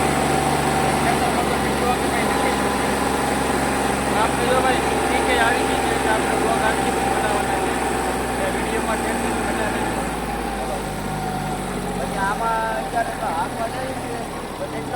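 A tractor engine runs continuously while driving on a farm, a steady mid-level drone with a high whine on top, under someone talking throughout.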